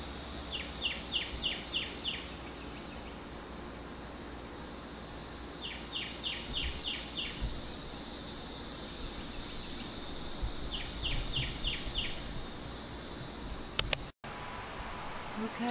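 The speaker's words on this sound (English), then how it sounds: "And you can hear the birds." Birds sing in a morning garden in three separate bursts of quick repeated chirps, moderately near, with quiet rustling ambience between the phrases.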